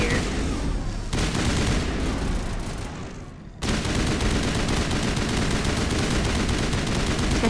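Sustained assault rifle fire in the video game Mass Effect Legendary Edition, shooting at husks, a dense rapid stream of shots that briefly pauses then resumes at full intensity and continues unbroken.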